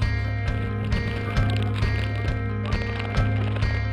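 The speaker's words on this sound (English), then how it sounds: "We're following a horse." A horse walks down a mountain trail in Peru, its hooves clip-clopping in a steady, even rhythm close by. Each step lands clearly over a constant low background rumble.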